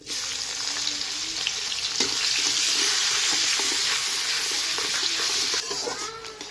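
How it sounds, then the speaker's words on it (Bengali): Chopped onion drops into hot melted butter and refined oil with whole cumin seeds for a mushroom masala curry, giving a loud, steady close sizzle that fades slightly near the end. "তো দিয়ে দিব পেঁয়াজ কুচি"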